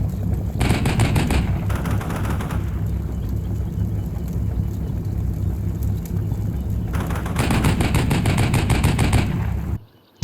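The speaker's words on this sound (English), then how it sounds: "My tanks on the south side start to spot infantry on the ridge, and they start to put in work with the 50s." .50 cal machine guns firing from tanks in the Cold War wargame Combat Mission, two long loud bursts of rapid rattling shots separated by a rumbling lull of distant fire, cutting off abruptly at the end.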